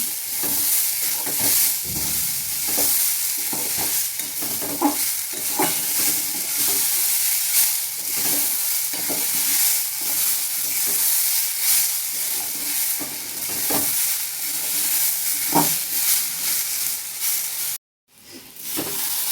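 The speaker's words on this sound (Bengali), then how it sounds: "আমার চালটা ভাজা ভাজা হয়ে গেছে, সুন্দর গন্ধ বেরিয়ে গেছে।" Rice for basanti pulao fries and gets stirred in a pan, giving a steady close sizzle with repeated scraping strokes of the spoon throughout and one brief drop-out near the end.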